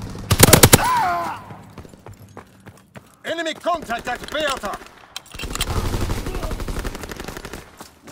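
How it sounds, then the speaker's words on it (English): Game gunfire from a fighter pilot's strafing run in Call of Duty: WWII, Domination multiplayer, sounding as a loud opening burst of rapid shots, then scattered sharper reports and a longer rumbling stretch of fire, with voices briefly present. "Fighter pilot inbound, strafing the targets."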